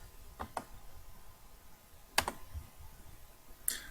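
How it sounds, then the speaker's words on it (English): Computer keyboard pressing Ctrl and C to copy, a few close, crisp key clicks in small pairs with short quiet gaps between them over faint room noise. "copy the above code by either right-clicking and selecting Copy, or hold down Ctrl and C"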